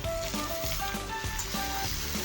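Yardlong beans go into a pan of frying potatoes, giving a close, loud sizzle with steady crackle and periodic stirring pulses, alone without speech.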